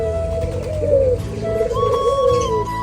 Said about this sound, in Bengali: মানে অনেক সুন্দর করে ডাকে গুগু পাখিগুলা